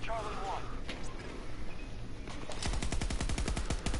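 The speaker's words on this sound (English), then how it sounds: "I'm shooting through furniture." Automatic gunfire in Battlefield 2042, a fast rattling burst starting partway through and continuing loud and close after a stretch of quieter background game noise, with a voice talking over it.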